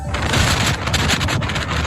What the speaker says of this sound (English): That's the sound of blowing snow that's adding to severe weather and significant travel disruptions